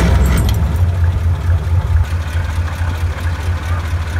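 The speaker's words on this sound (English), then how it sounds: "we're driving around in Brian's 6x6 flathead Ford" A Willys 6x6 truck powered by a flathead Ford V8 engine runs with a continuous low rumbling drone from inside the moving vehicle, loud and steady throughout.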